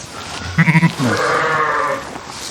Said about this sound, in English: it is full of sheep and lambs